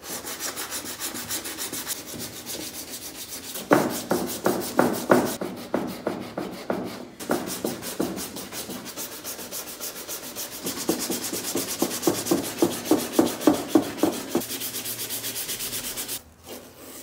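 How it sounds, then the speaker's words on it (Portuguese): Sanding and smoothing the bodywork of a homemade toy electric Ferrari, a steady dry rasping rub that speeds into bursts of quick back-and-forth strokes, close and fairly loud with no talk. "Agora que secou tudo, nós vamos fazer o lixamento e o alisamento dessa funilaria."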